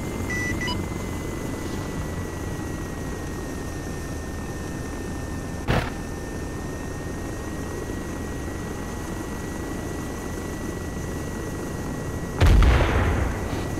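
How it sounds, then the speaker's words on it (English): A bomb blast in the military game Operation Blackout, heard as a single sudden low thump near the end, preceded by a brief sharp crack, over a steady engine-like drone. "That was a bomb."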